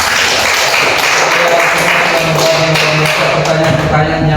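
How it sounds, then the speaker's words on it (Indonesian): Students in a classroom clap together in a dense, even round of applause, loud and close, lasting the whole stretch with no one talking over it. "Tepuk tangan kita semua dulu."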